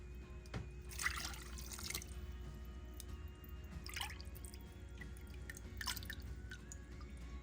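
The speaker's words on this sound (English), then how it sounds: "So I'm just gonna take a bunch of this whey off of the top." A ladle scoops salted whey from a pot of mozzarella curds in three soft, splashy pours over a low, steady hum, close and quiet.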